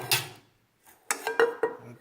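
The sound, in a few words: handling small pressed aluminum camping pans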